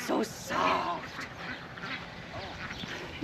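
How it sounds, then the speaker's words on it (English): Farm ducks quack close by in a few short, raspy bursts, with a person talking softly among them. "These are ducks."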